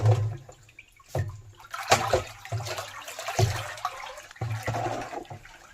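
Liquid is poured from a large glass onto pineapple plants in a farm field, in several separate splashing pours with short pauses between them, close and fairly loud.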